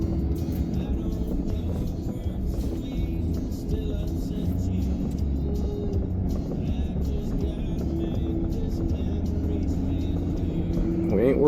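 A vehicle rolls over bumpy ground through mowed weeds, a steady low engine rumble with rattling jolts, under occasional talk.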